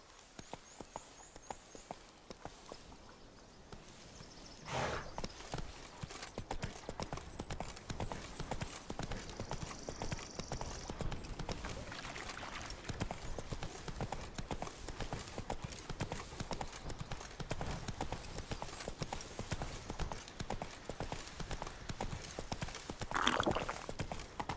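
A horse gallops at speed in The Witcher 3 video game, producing rapid rhythmic hoofbeats that run continuously over nearly the whole stretch, with faint ambient game sounds and a brief whoosh near the end.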